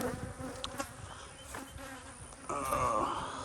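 Honey bees buzz around an open hive at a cow pasture apiary, a dense, close droning hum with individual bees whining past and a louder swell near the end, no talk.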